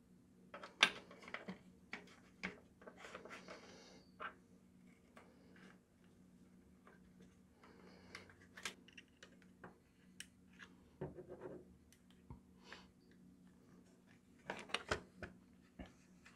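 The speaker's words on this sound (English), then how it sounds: "now I do need to trim the tape back here because it's touching the body." Scissors trimming tape on a Splatrball SRB400 gel blaster during a hop-up mod, heard as a scattering of quiet, close, crisp snips and small clicks with soft handling rustle between them.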